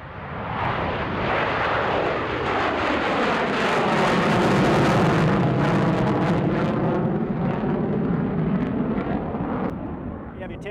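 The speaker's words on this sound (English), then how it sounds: "select full afterburners, and accelerate away from the deck" An F-14 Tomcat jet fighter lights full afterburners and accelerates away from a carrier deck in a simulated wave-off, making a loud, continuous roar that stays powerful for about eleven seconds.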